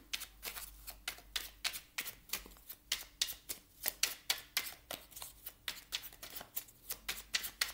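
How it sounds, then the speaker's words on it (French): Playing cards are shuffled and a card is drawn for a numerology reading, a string of quick, crisp riffling flicks and taps, close but quiet, with no talking. "Je vais vous prendre une petite carte avec la numérologie."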